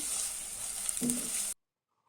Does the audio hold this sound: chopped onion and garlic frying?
yes